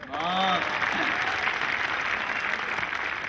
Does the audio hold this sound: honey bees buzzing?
no